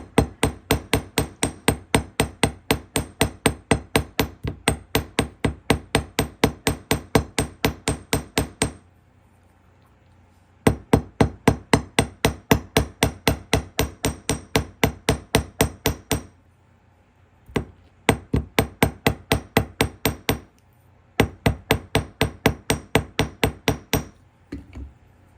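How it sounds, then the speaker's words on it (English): Rapid, steady hammer taps of a jewelry hammer on wire earrings at the edge of a bench block, close and crisp, running in long bursts broken by short pauses. "I'm going to use my hammer and just place it on the edge here"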